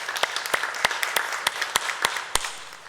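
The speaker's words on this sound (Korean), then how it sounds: "박수로 영광 올려드리겠습니다." A church congregation claps at the close of a Sunday evening worship service: a thin, uneven patter of separate handclaps, fairly close, with no voices over it.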